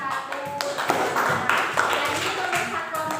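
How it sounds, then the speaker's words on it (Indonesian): A class of students claps for a group in a school classroom, a short burst of moderately loud hand claps mixed with voices. "tepuk tangan untuk kelompok 1"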